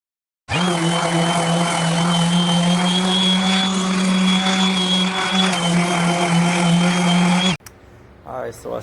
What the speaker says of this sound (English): Alright, so I sanded this piece, got it smooth